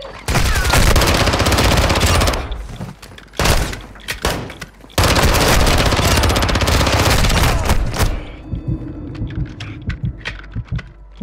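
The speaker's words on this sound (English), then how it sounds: "You are taking effective fire." Gunfire in Call of Duty: dense, loud bursts of rapid automatic shots in long volleys separated by short gaps, ending in scattered quieter shots and clicks.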